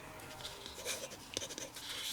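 A cheap AliExpress fountain pen with an iridium nib writes across paper, its soft continuous scratching running with small pauses between strokes, quiet and close.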